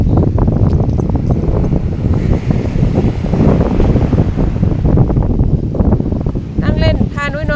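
Strong sea waves crashing on a beach in gusty wind, a loud continuous rumbling surge with heavy wind buffeting the microphone, and a voice briefly heard near the end.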